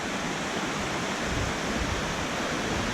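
Steady roar of a mountain waterfall cascading down in Western North Carolina, a dense, unbroken rush of water, loud and close with no pauses.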